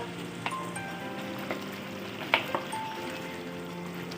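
Mutton pieces with added potatoes and tomato puree fry in a pan as aloo gosht, giving a steady soft sizzle with a few faint scrapes and knocks of stirring throughout.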